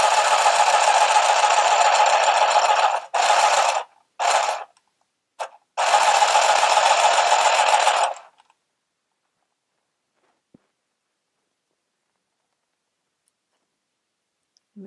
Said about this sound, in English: Now you can also use the handheld sewing machine holding it vertically to your body